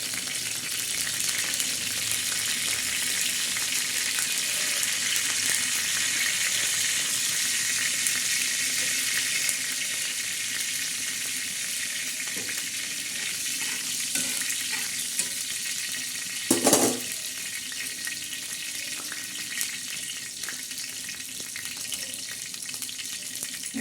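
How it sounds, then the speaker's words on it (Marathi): Cumin seeds and curry leaves sizzle in oil on a tawa, a steady loud frying hiss lasting the whole time, with a brief louder clatter partway through and no talking. "तव्यामध्ये आता फोडणीला थोडेसे जिरे टाकणार आहोत जिरे तडका देणार आहोत आणि हे बघा कढीपत्ता टाकणार आहोत"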